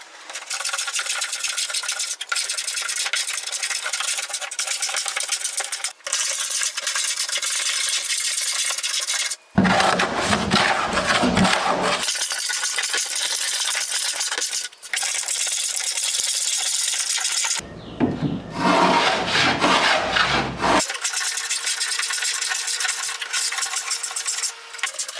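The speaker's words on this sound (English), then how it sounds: "So I'm going to get my planer out" A planer trims protruding wooden decking along the rail of a homemade wooden paddle board, making loud, coarse rasping passes broken by brief pauses and a couple of shifts in tone, close up.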